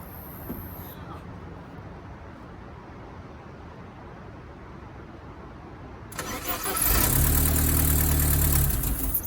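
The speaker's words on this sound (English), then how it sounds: "We're going to get it to run and idle." A Porsche 924 Turbo left unstarted for 22 years sits quiet, then cranks and catches about six seconds in, settling into a loud, close, rough running idle.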